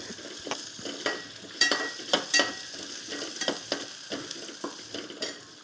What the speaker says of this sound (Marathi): चांगलं असं मिक्स करून घ्यायचं.